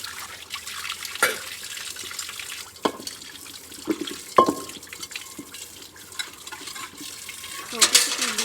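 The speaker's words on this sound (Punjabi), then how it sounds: "ਹੁਣ ਪਤੀਲਾ ਧੋ ਦਾਂਗੇ" Water runs and splashes while a metal pot is scrubbed and knocked, with intermittent clanks and scraping close by.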